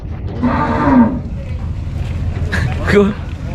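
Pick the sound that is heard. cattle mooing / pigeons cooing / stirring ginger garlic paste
cattle mooing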